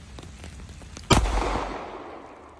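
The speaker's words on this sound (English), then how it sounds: "Let's see if the Glock 19 can shoot in the rain." Glock 19 pistol fired outdoors in the rain: one sharp, loud crack about a second in that rings out and decays, with faint patter before it.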